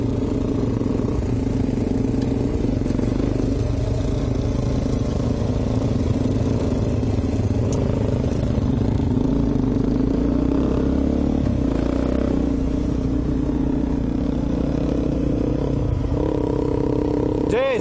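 A Suzuki DR650 dual sport motorcycle engine drones steadily throughout a group adventure ride, with a low, continuous rumble and some clatter, while voices call out over it.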